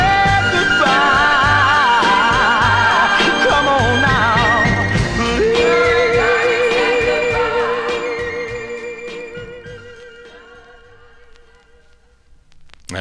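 A 1964 Columbia soul single playing loud and full, with a sung lead voice over a band with strings, the final chorus swelling and then fading out at the end.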